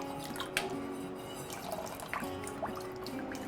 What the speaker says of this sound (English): I'm going to whisk in the lemon juice that I have.